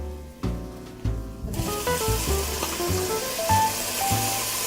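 Garlic, tomatoes and vegetables for jambalaya hitting a hot pan, a loud sizzle that swells and keeps going alongside clinks and scrapes of utensils, no voices.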